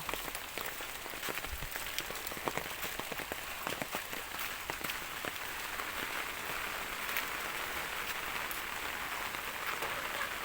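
Light drizzling rain falls steadily in a rural home-village setting, a continuous soft hiss of drops pattering on surfaces, with no speech.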